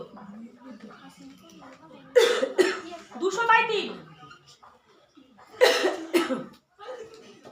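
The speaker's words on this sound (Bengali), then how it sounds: "কাশি হচ্ছে" A person coughs in two harsh bursts, a few seconds apart, between stretches of quiet talking.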